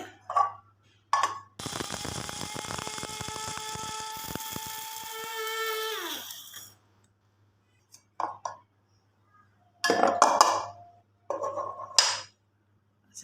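Fenugreek seeds ground in a small electric grinder, a loud whirring motor burst of about five seconds that winds down at the end, set between short sounds of handling and clatter.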